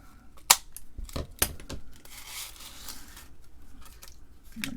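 Scissors snip wire twice with sharp metallic rings close by, followed by a few softer clicks and faint rustling.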